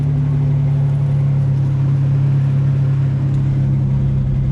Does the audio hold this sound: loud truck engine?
yes